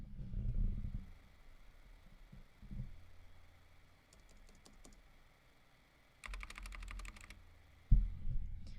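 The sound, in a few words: typing on a computer keyboard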